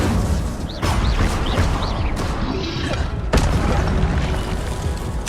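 Casting Incendio, the fire spell in Hogwarts Legacy, sets off a loud booming whoosh, then a second heavy burst a few seconds later over a steady, dense game soundscape.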